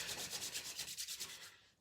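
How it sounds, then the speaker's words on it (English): Hands rubbed briskly together during a calming exercise, giving a rhythmic, close, soft swishing friction of about a dozen strokes that fades out at the end. "we can even charge the hands up by rubbing them together, generating some heat"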